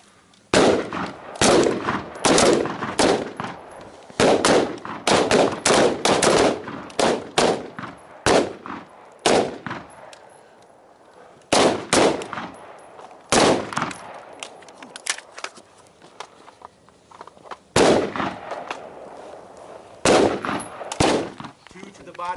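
Gunfire at a night shoot on a defensive range: loud, sharp shots cracking in irregular clusters and single reports, with quieter gaps and faint voices between volleys.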